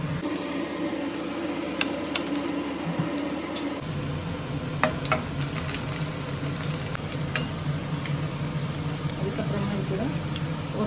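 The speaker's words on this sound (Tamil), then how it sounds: "எண்ணெய் நல்லா சூடானதும் பொடிசாக கட் பண்ணி பூண்டு சேர்த்துக்கலாம்." Finely chopped garlic frying in hot oil, a steady close sizzle with crackles and stirring scrapes running throughout; a voice speaks over it.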